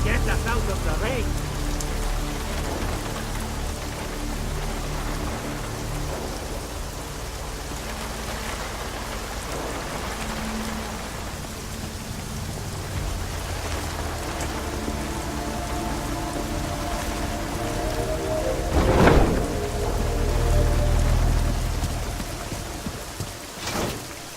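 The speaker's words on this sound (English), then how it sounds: "At least get us out of the rain." Steady rain falls in the video game Deus Ex: Mankind Divided, a continuous hiss of rain on surfaces mixed with game ambience, with a louder burst near the end.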